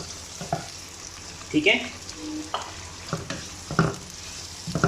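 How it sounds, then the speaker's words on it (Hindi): Onions brown in hot oil in a pan for kaleji masala, a soft continuous sizzle punctuated by clinks and scrapes of stirring, with a brief voice speaking. "अब सबसे पहले हम इसमें जो प्याज है ये ब्राउन करेंगे"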